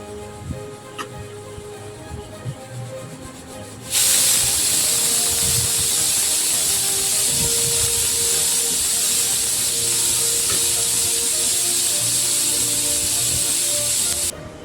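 A pressure cooker cooking pulao releases a loud, steady hiss of steam that rushes out and holds for about ten seconds, then cuts off, over quieter background kitchen noise.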